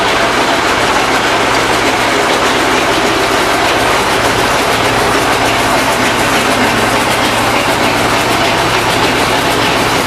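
A tractor-driven jugaad grain loader machine moving wheat from one trolley into another, a loud continuous mechanical rumble and rattle with a steady low engine drone, unbroken for the whole stretch.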